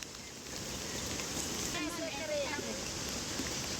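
Rain falling steadily outdoors during a finger millet harvest in the hills, a dense, even patter heard close by throughout.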